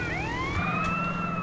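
Police sirens in GTA San Andreas wail continuously, rising and falling sweeps layered over a low engine rumble, fairly loud and steady throughout.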